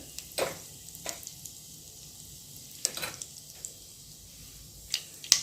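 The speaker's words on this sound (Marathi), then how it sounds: "मोहरी तडतडले" Mustard seeds, along with sesame, cumin and asafoetida, crackle in hot oil in a home kitchen: a soft, steady sizzle broken by a few scattered sharp pops.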